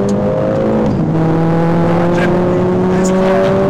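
A Mercedes-AMG CLA45 S with a 2-liter four-cylinder engine revs through its downshifts, the pitch rising steadily in a loud, close drone.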